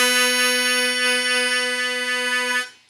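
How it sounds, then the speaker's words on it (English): A harmonica note played with tongue blocking, the tongue covering the middle two holes, a rich steady tone held close for about two and a half seconds before fading out, with no voice over it. "And now to incorporate tongue blocking into that, it sounds like this."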